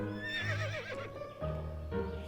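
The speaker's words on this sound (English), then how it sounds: "A horse, okay." A horse neighs and whinnies in the video game To The Moon, a loud, wavering call rising and falling over about two seconds, with steady game music underneath.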